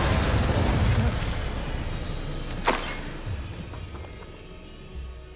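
An incendiary spell bursting in the video game Hogwarts Legacy: a loud, rumbling blast that fades over a few seconds, with a sharp crackling pop partway through.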